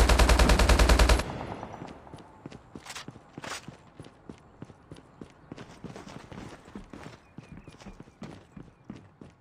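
Gunfire in the mobile shooter Call of Duty: Mobile during a ranked match: a loud rapid burst at the start, then a long run of evenly spaced single shots or footstep-like clicks at a steady rhythm.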